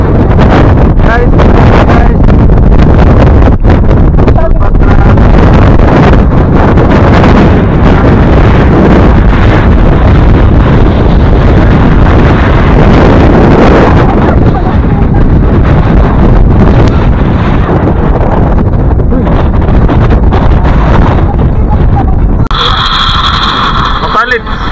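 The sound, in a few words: strong wind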